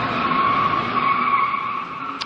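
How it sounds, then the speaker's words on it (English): A car spins 360-degree donuts in a Nottingham car park, tyres skidding and squealing in one continuous, loud, high-pitched screech with engine noise beneath. "I was pulling a whole load of very snazzy 360-degree donuts"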